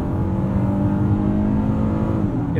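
A 2021 Honda Odyssey Elite's 3.5-liter engine pulls steadily under acceleration, a loud, close, continuous whirring drone heard from inside the cabin with no talking.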